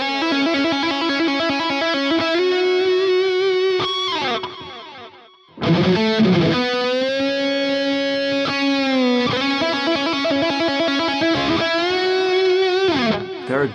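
Distorted electric guitar plays a riff through a Fractal FM3 amp preset, loud and up close, with rhythmic chord stabs, a brief pause, then the riff again.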